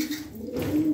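Tumbler pigeons coo in a crowded coop, a brief close, low throaty call with no voices.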